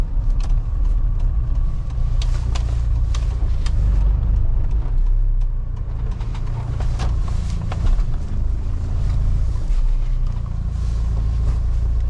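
The engine of a 2017 Mahindra Thar drones loudly and continuously as the vehicle is driven, with heavy low rumble and wind buffeting, and no talk.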